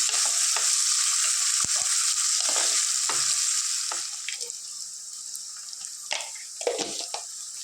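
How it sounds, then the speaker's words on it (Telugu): Onions and green chilies fry in a pan for an ivy gourd curry, a loud sizzle at first that settles into a softer crackle, with scattered knocks and scrapes of stirring. "ఇది కొద్దిగా లైట్గా ఫ్రై చేసుకుందాం"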